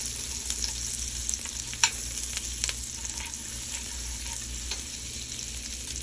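Butter melting in a pan on a stovetop over moderate heat gives a steady, close sizzle with faint crackles and one sharper pop, heard alone without talk.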